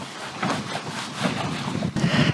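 Wind gusts blow across an outdoor grill fire, producing a rough, buffeting rush with fluttering flame noise and a sudden dip then resurgence, close and moderately loud.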